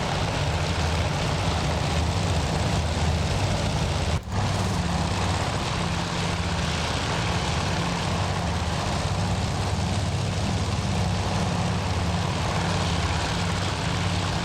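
Propeller engines of torpedo bombers drone steadily in a Task Force Admiral carrier battle, with a loud continuous low hum of aircraft engines. A brief dip occurs early, then the drone runs unbroken to the end.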